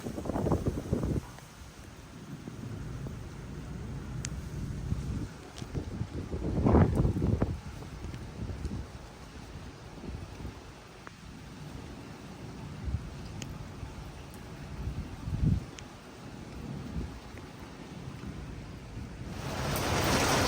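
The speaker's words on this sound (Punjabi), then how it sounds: "ਬਾਹਰ ਬਾਰਿਸ਼ ਸ਼ੁਰੂ ਹੋ ਗਈ ਆ ਤੇ ਬਾਰਿਸ਼ ਹੀ ਵਾਹਵਾ ਪੈ ਰਹੀ ਆ" Heavy rain falls outside in a Pakistani village, a steady broadband wash with a few louder gusts and no talking.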